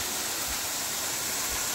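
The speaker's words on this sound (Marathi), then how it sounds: "कोसळणारं हे पाण्यामुळे तयार झालेला हा धबधबा" Yeram waterfall, a 90-foot drop on the Yeram stream near Nerur, roars as a continuous dense hiss of falling water, loud and steady with no voices.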